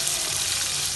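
Chopped onions fry in a pan for chicken biryani, giving a steady, dense sizzle that stays loud and even throughout, with no talking.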